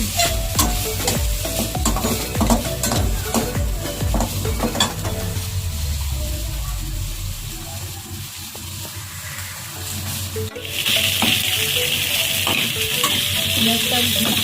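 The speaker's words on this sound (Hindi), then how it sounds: "ये थोड़ा चिकन फ्राई हो चुका है।" Chicken frying in a pan while being stirred, with a continuous sizzle and repeated scraping strokes of a spoon against the pan; partway through the scraping pauses, then a louder, brighter sizzle swells up.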